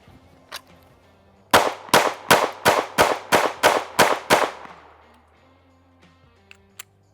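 Springfield Armory Hellcat Pro Comp pistol fired in a rapid string of about nine sharp, loud shots with a short ringing decay, preceded by one isolated shot and followed by faint clicks.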